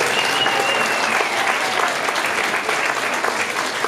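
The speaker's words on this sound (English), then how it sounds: "How about a round of applause for all the performers?" A talent show audience claps and cheers for the performers in a dense, steady wash of applause that holds at full strength throughout.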